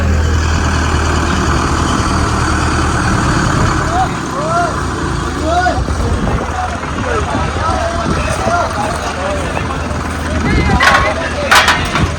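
A tractor engine rumbles low and steady nearby throughout at a village fair, with voices and chirpy background sounds over it, and a few sharp clanks near the end.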